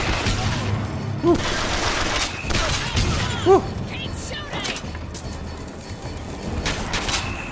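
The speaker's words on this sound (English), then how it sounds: "Oh, almost shot Elizabeth in her face" Gunfire in the shooter game BioShock Infinite, a few scattered bursts and booms among busy in-game noise, with a player's voice talking over the action.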